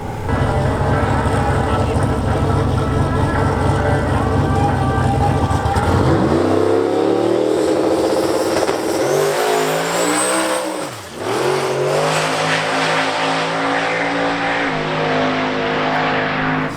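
Drag race car launching with tires spinning hard, a loud engine roar whose pitch swoops up through the run with a brief dip near a shift, continuous and close.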